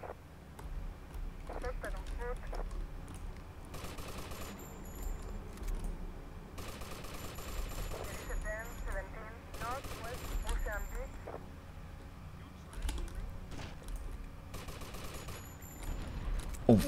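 Shotgun blasts in the video game GTA: Vice City, a series of loud bursts scattered through game noise, with someone talking intermittently.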